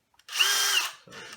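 A power drill whirs at high speed for about half a second, then cuts out, followed by a softer rustling handling noise.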